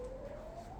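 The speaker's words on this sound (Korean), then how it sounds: "오늘 왜 이렇게 경찰차랑 사이렌 소리가 다 들리냐?" A police car siren wails from far off, a faint steady tone that slowly rises in pitch, heard alone over low background noise for under a second.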